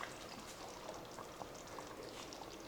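Heavy cream is poured into an Instant Pot, making a faint, soft continuous liquid pour with a gentle trickling texture and no speech.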